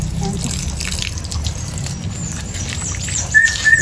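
Water rinses a dog during a bath, a continuous close splashing patter with soft drips, with faint voices in the background and brief high squeaks toward the end.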